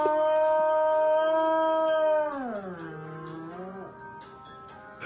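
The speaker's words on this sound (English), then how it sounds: "his dog sings along to the theme of Law and Order" A big dog howls along to the Law and Order TV theme: one long, loud, close howl that holds steady and then slides down in pitch before tapering off. No talking is heard.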